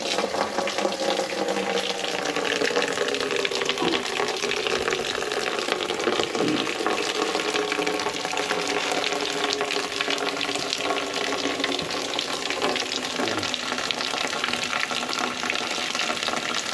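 Water runs steadily from an outdoor tap for soaking a bedsheet, a continuous, fairly loud rushing hiss with no talk.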